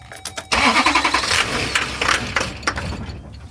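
A Duramax 6.6 diesel truck engine cranks briefly, catches and fires loudly, then settles into a steady, close rumbling run with a slight uneven surge.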